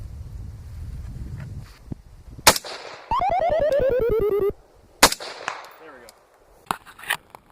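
Sharp rifle shots of Tula 55 grain bimetal rounds fired at AR500 steel from 100 yards, several loud cracks with a ringing metallic ping from the plate, wind buffeting the microphone between shots.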